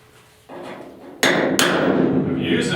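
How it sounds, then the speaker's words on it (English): A hammer drives a chisel into the rusty metal cab of a 1972 Ford 4x4 truck, giving two sharp, loud metallic strikes that ring out after an earlier softer knock, heard close up. "Using the chisel here, I find that you can really, if you're sitting there trying to hit it, you gotta be on,"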